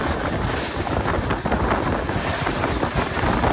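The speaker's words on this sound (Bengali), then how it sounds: "Crossing Balurghat Kolkata Tebhaga superfast." A Kolkata–Shantiniketan express passes the oncoming Balurghat–Kolkata Tebhaga Superfast, giving a loud, steady rumble of rolling wagons and wind, unbroken from start to finish with no voices.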